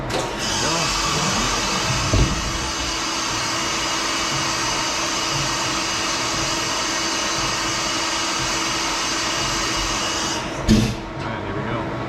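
A machining setup runs steadily with its coolant flowing, a continuous broadband whir and spray that holds even and fairly loud throughout, with a brief knock near the start and a short clatter just before the end.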